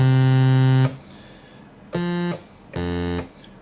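A plain, buzzy default tone from a Roland JD-Xi synthesizer sounds three times: one long held note, then two shorter presses with brief silences between them.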